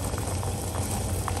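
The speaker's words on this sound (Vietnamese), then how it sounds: "Nãy giờ thêm nấu cái nồi nước này nha" A pot of water boiling on the stove while fish is being cooked, a steady dense bubbling and churning that stays constant and fairly close, with no speech.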